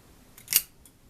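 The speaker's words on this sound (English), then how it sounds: "I hear the time machine clicking and whirring" A time machine sound effect gives a short, quiet mechanical click-and-whirr, with one brief crisp burst in the middle flanked by faint ticks, and no voices.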